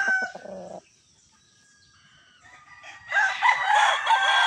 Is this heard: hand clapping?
no